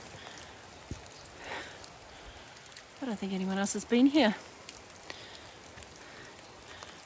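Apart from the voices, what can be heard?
rain falling while camping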